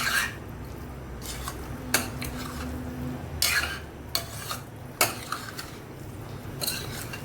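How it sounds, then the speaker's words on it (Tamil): Chicken pieces frying in a pan and being mixed, with a low sizzle broken by irregular scraping and clinking strokes of a spatula, close and fairly quiet. "சிக்கன் நல்லா ஃப்ரை ஆகி வரும். அது வரைக்கும் நம்ம மிக்ஸ் பண்ணிவிட்டு க்ளோஸ் பண்ணி வைக்க போகிறோம்"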